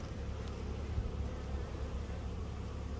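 A dense, continuous drone of many honey bees buzzing together at a beehive, steady and unbroken, with no voices.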